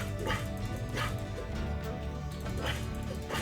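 A skeleton dog in the video game Hytale gives a few short, soft bark-like yips and whimpers, faint and spaced, with no talk over them.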